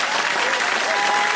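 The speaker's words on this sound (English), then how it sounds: "a round of applause for all my guests tonight" Steady, full applause from a television studio audience on a talk show, a continuous dense wash of clapping with no break.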